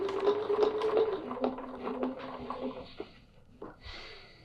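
A sewing machine used for free-motion stitching of a nested petal design runs in an uneven, rhythmic whir with varying speed, close and moderately loud, then fades near the end.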